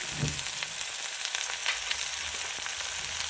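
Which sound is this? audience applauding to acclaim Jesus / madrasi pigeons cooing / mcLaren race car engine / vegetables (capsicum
vegetables (capsicum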